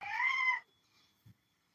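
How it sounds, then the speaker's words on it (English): A Siamese cat gives one clear, close meow lasting about half a second, followed by near silence with a faint soft rustle. "My cat right here. Siamese cat."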